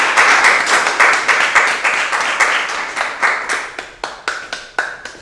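A class of students claps for a classmate in a school lesson, a brisk burst of applause that thins into a few separate, ringing hand claps toward the end.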